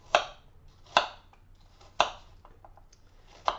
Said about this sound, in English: And I'm just going to chop up my apple.